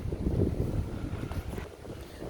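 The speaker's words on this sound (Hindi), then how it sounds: "बहुत ज़्यादा ज़ोर से हवा चल रही है" Strong storm wind roars in a steady, dense rush with gusty low rumbling against the microphone, heavy and continuous without voices.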